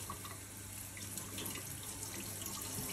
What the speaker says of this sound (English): Bring it to the tap, get it nice and wet